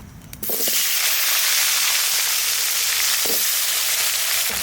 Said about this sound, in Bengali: মাছ ভাজার তেল আছে ওই তেলের মধ্যে আমি এই আলু কটা একটু ভেজে নেব একটু